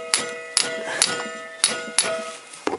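A hammer taps the bolts of an oil pump being fitted to a Toyota VVT-i engine, six sharp metallic taps at uneven intervals, close and fairly quiet with no talk.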